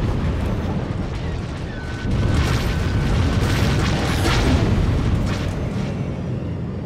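An enemy missile exploding in the Star Wars space combat game Galactic Starfighter, a heavy, rumbling boom that swells and stays loud and dense for several seconds amid engine roar.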